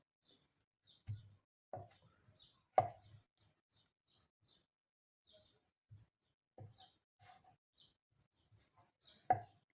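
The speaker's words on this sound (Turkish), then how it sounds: "Şöyle küp küp olacak şekilde doğrayalım." A knife dices boiled potatoes into cubes on a cutting board in sparse, irregular strokes, with quiet pauses between cuts and faint chirping in the background.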